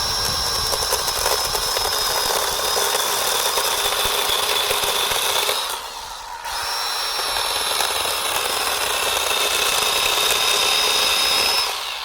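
Small one-handed mini chainsaw cutting through tree branches and roots of a tall tree, a loud high buzzing whine that dips briefly mid-way then resumes steadily, close by.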